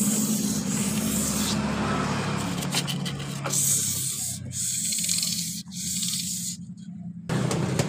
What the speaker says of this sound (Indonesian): kita gosok di bagian pulinya ini agar kampasnya lengket baik ketika saat tarikan awal